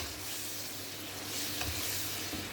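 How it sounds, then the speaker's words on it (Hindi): Chicken for a matar chicken pulao fries in a pan, giving a steady close sizzle with a soft stirring scrape, and no voices. "अब हम इसमें जो है चिकन वो ऐड कर देंगे और इसको हम अच्छे से भून लेंगे"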